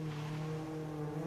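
Number 21 Mazda RX-7 race car leaving the start line at a Daytona solo autocross event, heard as a faint, steady distant engine drone with no talk over it.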